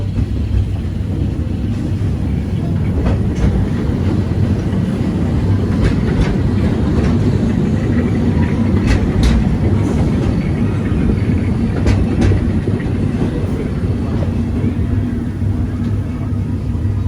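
The Big Thunder Mountain mine train at Walt Disney World rattles and rumbles steadily as a loud, continuous roar with scattered clanks and clacks throughout, heard from a passing railroad train.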